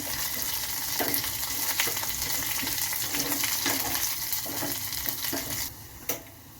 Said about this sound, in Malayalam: നമ്മൾ എണ്ണ ഇച്ചിരി കുറച്ചാണ് എടുത്തിരിക്കുന്നത്, അതുകൊണ്ട് ഞാനൊന്ന് ഇളക്കി കൊടുക്കുവാണ്